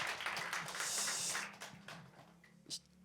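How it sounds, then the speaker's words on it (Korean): A church congregation applauds during a New Year's Eve worship service, a fairly quiet, steady wash of clapping that fades out after about a second and a half. "우리 한 번 더 감사하다고 박수하겠습니다."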